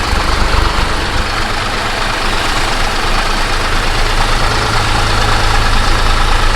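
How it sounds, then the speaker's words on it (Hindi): A tractor engine runs steadily during a ride, a loud continuous low rumble with a broad mechanical roar that holds even throughout, with no voices over it. "मैं कभी ट्रैक्टर में बैठा नहीं हूँ और आज फर्स्ट टाइम बैठा हूँ"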